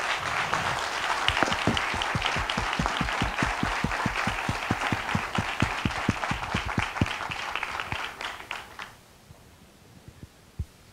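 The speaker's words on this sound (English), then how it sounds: "So please clap Professor Simões as well." Lecture audience applauds at the close of an advanced science school on renewable energies in São Paulo, dense steady clapping for about nine seconds before fading to a few scattered claps.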